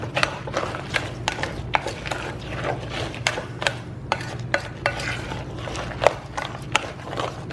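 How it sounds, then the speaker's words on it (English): A spoon scraping and clacking through a thick Kentucky Derby pie mix with a cup of pecans, giving a steady series of close, sharp clicks and knocks in an uneven rhythm. "So it's just stir it all up in there."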